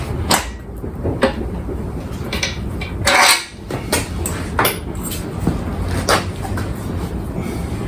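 Heavy metal thuds and clanks as an old Honda D16Y7 engine block from a 1997 Honda Civic, head removed, is flipped over in a garage, with one loud bang near the middle amid scattered knocks and scrapes.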